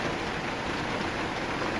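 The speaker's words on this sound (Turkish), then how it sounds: "Yağmurun sesini duyuyoruz değerli dostlar." Heavy rain roars in a thick, unbroken wash of noise, steady and close throughout, in Denmark.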